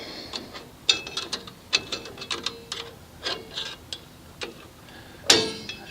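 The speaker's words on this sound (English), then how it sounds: "it'll grab the wheel and bring it down a notch. Just like that. Click." A drum brake self-adjuster ratchet on a 1988-1998 Chevy K1500 Silverado clicks through several light, close metallic ticks spread across the moment, ending in one sharper, louder snap.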